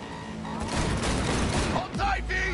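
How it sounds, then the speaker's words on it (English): During a car chase in a video game, a rapid fusillade of gunfire crackles continuously beneath shouted voices and engine rumble, ending in a deeper roar. "Fucking drive, Jackie! Come on, V! Shoot"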